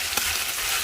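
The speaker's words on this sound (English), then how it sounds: "Now I'm going in with my onion. Just going to continue this browning saute process." Onion sautéing and browning over high heat in a hot pan, a continuous close sizzle and crackle with a brief stir sound, no talking.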